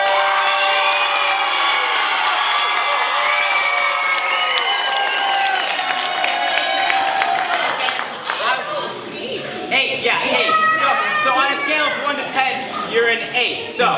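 A crowd at a senior-night improv show whoops and cheers loudly, swelling into a dense roar of shouts and screams, then breaking into scattered, uneven yells near the end.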